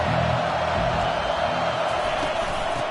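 Stadium crowd at an Auburn vs Georgia college football game, a dense, steady roar of many voices filling the space, loud and continuous without clear peaks.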